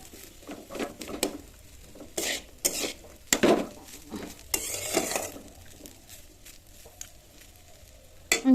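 Spices stirred and frying in a pan, with a spoon clattering and scraping against metal in irregular bursts over a soft sizzle, close and moderately loud.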